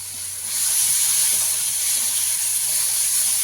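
Spices (turmeric, chilli, cumin and coriander powders) frying in oil for a prawn masala with a splash of water, giving a steady loud hiss and sizzle that swells after the first half second and holds, with no talk.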